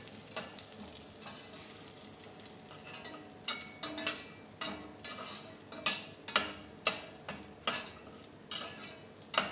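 Green chillies fry in a pan for a vegetable biryani, a soft steady sizzle under a string of sharp scraping strokes as a spoon stirs them, the strokes coming faster and louder in the second half.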